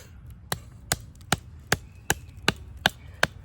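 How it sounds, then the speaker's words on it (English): A Bark River fixed blade knife chops into oak hardwood with eight sharp, evenly spaced, close knocks coming about twice a second. "we're going to be chopping oak, so it is hardwood"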